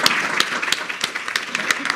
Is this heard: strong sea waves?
no